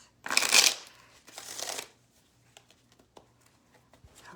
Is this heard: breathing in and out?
no